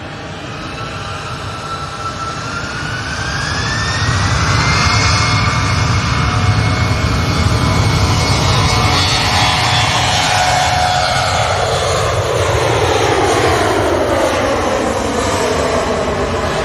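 A TUI airliner arrives at Manchester Airport, its loud jet roar building and sweeping past with a falling engine whine, then a sustained rumble as it moves on.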